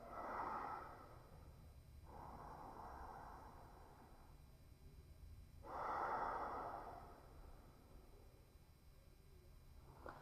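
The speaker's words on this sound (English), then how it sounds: "Taking a few deep breaths here." Slow, deep breaths during a beginner yoga session, close and soft, in three long inhale-exhale cycles with quiet pauses between them.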